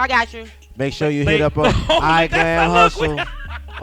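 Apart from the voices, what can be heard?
No everyday noise stands out behind the speech.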